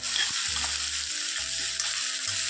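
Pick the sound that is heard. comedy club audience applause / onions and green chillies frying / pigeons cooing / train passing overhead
onions and green chillies frying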